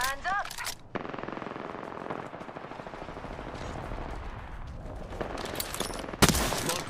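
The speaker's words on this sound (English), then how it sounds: "Smart bullets hunting foes." Smart bullets fired in Final Fantasy XVI, rapid machine-gun-like bursts of gunfire rattling continuously at moderate loudness, with a voice briefly heard at the start.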